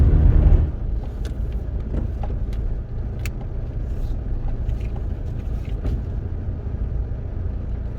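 A Rover 25 hatchback drives on under steady engine drone and road rumble from inside the cabin, with a heavier surge at the start settling into a constant even hum.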